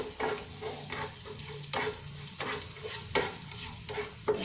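Garlic and pepper are stir-roasted in a pan, a quiet sizzle broken by repeated spatula scrapes and stirring strokes at an irregular pace.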